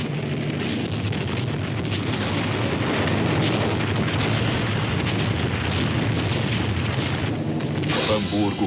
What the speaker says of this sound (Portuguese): um ataque noturno dos bombardeiros ingleses contra Hamburgo, o principal porto alemão